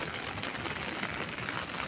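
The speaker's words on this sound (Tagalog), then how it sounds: "Malakas na, lumakas yung ulan." Heavy rain pours down in a Chinese garden, a dense, steady hiss that fills the whole scene with no break or let-up.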